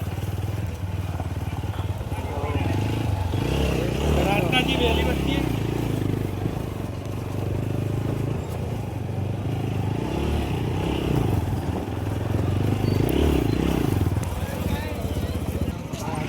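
A motorcycle engine rumbles steadily at close range as it is ridden into a parking area at Pavagadh, with voices talking over it and some clattering throughout.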